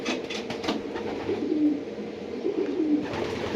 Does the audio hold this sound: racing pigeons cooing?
yes